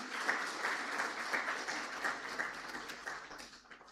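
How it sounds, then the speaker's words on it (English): An audience at a digital policy forum breaks into applause, a steady wash of many hands clapping together that holds fairly evenly and fades slightly toward the end. "can you actually now give us a round of applause as Lesotho that we are actually doing a lot?"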